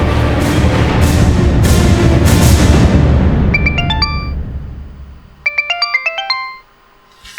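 A mobile phone ringtone plays as a repeating bright melodic pattern in two bursts, with a low rumbling background fading out beforehand, ending in near silence, with no voices.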